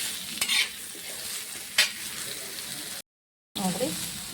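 Cut guava pieces fry in a little oil while being stirred, a continuous close sizzle with a few sharp spatula knocks, cut off by a short silent gap before the frying resumes.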